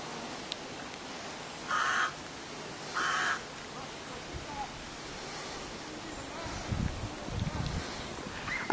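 Crows calling from trees beside a sheltered cycle path where the branches barely move: two harsh caws a second apart, moderately distant, over a steady outdoor hiss, followed later by some low rumbling.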